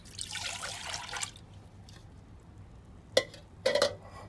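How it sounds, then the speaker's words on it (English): Milk pours into a saucepan in a short, soft trickling stream for about a second. Two sharper clinks follow a little later in a quiet kitchen. "our first step is in a saucepan we're going to put in our milk"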